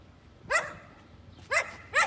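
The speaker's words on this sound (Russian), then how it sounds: "Он на меня гавкает." A French bulldog barks indoors at someone close by, three short, sharp yaps: one, then a pause of about a second before two more in quick succession, with quiet room tone in between.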